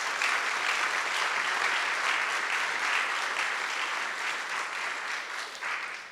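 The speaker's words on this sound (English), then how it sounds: "Please give a round of applause to the" A conference audience at Stanford University applauds the DigiLab team, a dense, even wash of clapping that holds steady and fades slightly toward the end.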